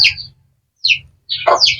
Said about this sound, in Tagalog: Ang lakas ng huni ng mga ibon na